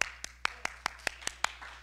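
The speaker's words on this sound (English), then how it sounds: "Clap your hands and with a shout." A church congregation claps their hands during a praise service, giving about eight sharp, evenly spaced claps in a steady rhythm with no talk over them.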